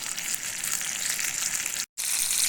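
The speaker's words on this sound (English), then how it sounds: "Sizzling nicely." Fish fillets sizzle meat side down in a hot pan in a steady, bright crackle that holds level, broken by one brief silent gap near the end.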